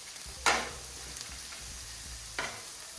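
Ground beef frying on a Camp Chef flat top griddle, a steady close sizzle with two brief scraping bursts of a spatula, no voices.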